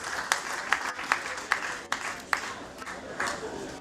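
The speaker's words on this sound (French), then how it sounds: "Applaudissez pour elle, applaudissez, applaudissez s'il vous plaît." Applause at an award ceremony honoring a woman, moderate clapping with a few sharp, evenly spaced louder claps standing out over a softer crowd wash and some voices.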